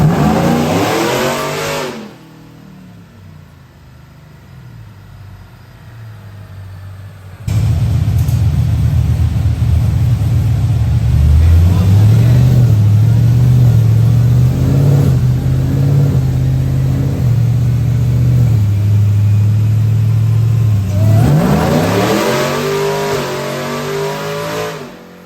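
An LT4-powered Chevrolet Tahoe on a dyno roars as its engine revs up and holds a loud, sustained high-load pull through the gears, then winds back down, heard up close.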